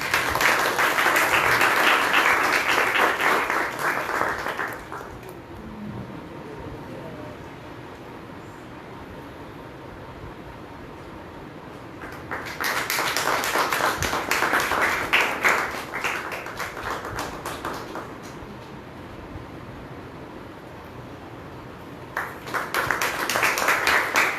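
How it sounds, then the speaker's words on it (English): Audience applause at a memorial awards ceremony comes in three separate bursts of clapping, each lasting several seconds, divided by quieter stretches of room noise. "Can we clap?"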